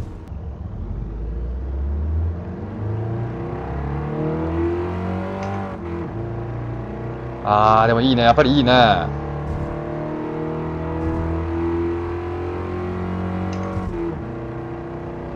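Toyota Sports 800 engine in Gran Turismo Sport, a steady buzzing idle with rich harmonic drone that jumps into a brief, louder rev around the middle before settling back, with someone talking over it.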